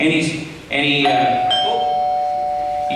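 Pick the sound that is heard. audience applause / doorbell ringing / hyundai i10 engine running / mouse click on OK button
doorbell ringing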